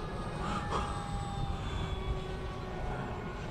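A modified Bixler 2 RC plane with an NTM motor and 7x4 propeller drones steadily overhead as it climbs, a thin continuous whine at some distance with faint ambient noise beneath.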